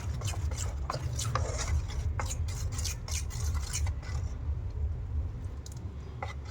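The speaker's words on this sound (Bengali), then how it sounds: "তা আবারও আমি একটু টাইম নিয়ে এটাকে ভালো করে ফেটিয়ে নিলাম।" Potato paratha batter is beaten by hand in a bowl, making a steady scraping, slapping rasp with brief sharper knocks, close and continuous with no voice.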